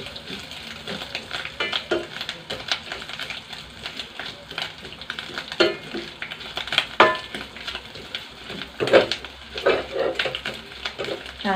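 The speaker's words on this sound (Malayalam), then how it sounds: "നാളികേരം നല്ല ഗോൾഡൻ ബ്രൗൺ ആവുന്ന വരെ നമുക്കൊന്ന് വറുത്തെടുക്കണം." Grated coconut fries and is stirred in a pan while making pumpkin and red mung bean erisseri: a steady, close sizzle with irregular scraping and clicking from the spoon throughout.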